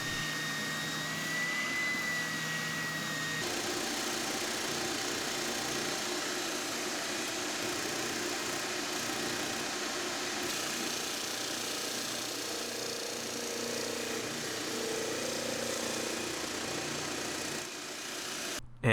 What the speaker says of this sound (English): we'll use the spindle sander and the disc sander again to take it down